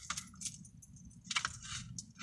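A bunch of keys jingles in several quick bursts close by, over a low rumbling background hum.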